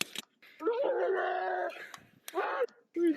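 Police dog during a struggle to arrest and handcuff a suspect, giving close, strained whimpering and yelping bursts with brief gaps, mixed with shouting voices.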